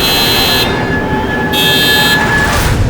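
Car horn honked repeatedly in a few long, loud blasts separated by brief gaps, sounding over steady background rumble.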